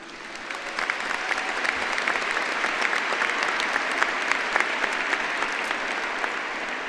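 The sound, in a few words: audience applause at graduation ceremony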